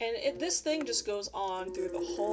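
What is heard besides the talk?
No distinct noise like a dog, phone or traffic.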